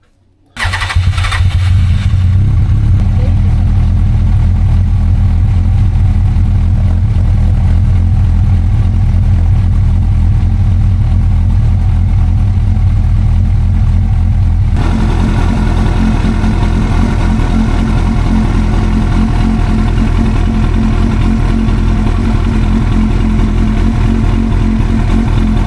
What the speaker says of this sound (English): So I'm just gonna start the bike and let it run for a bit, because it's got oil this time